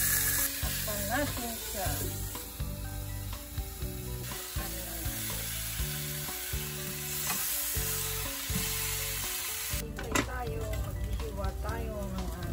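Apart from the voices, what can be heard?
spare ribs sizzling and frying in a pan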